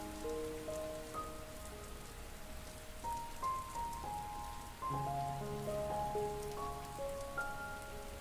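Steady rain patters on a surface throughout, a dense even hiss with scattered drop sounds, while soft sustained musical tones drift over it in a calm meditation setting.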